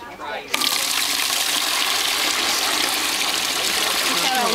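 Water swirls and drains from a basin at the equator, a steady loud rushing gurgle that begins abruptly after a brief quieter moment and continues evenly throughout.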